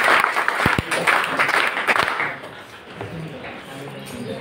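A group claps together on a counted start, a burst of dense, fairly loud clapping over a few seconds that thins out, with voices talking through it.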